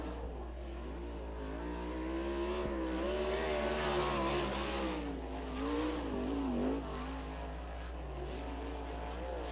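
A sprint race car laps Lincoln Speedway in Pennsylvania during PA Speedweek, its engine rising and falling as it circles the track, heard from a distance beneath a steady low hum.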